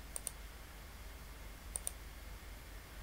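Two quick pairs of computer mouse clicks, sharp and close, each a rapid double tap, separated by a short pause over a steady low hum, with no talking.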